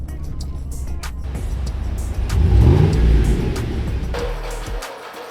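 A truck rolls up onto a homemade car ramp, its engine rising from idle into a brief revving push midway before settling and then cutting to quiet.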